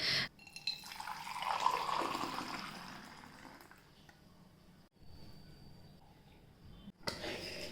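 Rice is washed in water in a home kitchen, with running water and sloshing that rise and fall near the listener. The sound fades through the middle, has a short break, and the water returns briefly at the end.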